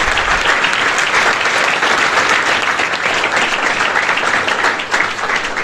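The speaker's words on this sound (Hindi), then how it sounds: "अदिति मैडम पीछे खड़े हैं, उनके लिए जोरदार तालियां बजाइए।" An audience at a motivational student gathering in India breaks into loud, sustained applause, dense, even clapping from many hands that continues steadily for several seconds with no one talking over it.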